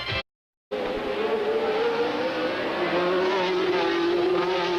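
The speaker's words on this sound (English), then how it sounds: "Carlos Reutemann, by about a second a lap as he thunders back onto Ocean Boulevard" Formula 1 race car at the US Grand Prix street circuit on Ocean Boulevard, a loud, sustained high-revving engine scream held close throughout after a brief silent gap at the start.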